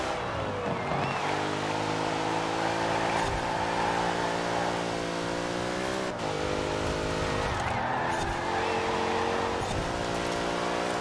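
A Dodge Durango engine driving in Forza Horizon 4, loud and close, with steady revving that climbs through the gears and drops briefly at each shift, plus faint tire noise throughout.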